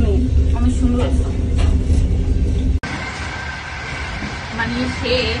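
Steady low rumble and rattle inside a moving passenger train in Europe, with a brief break partway through before the running noise resumes, and voices faintly audible in the background.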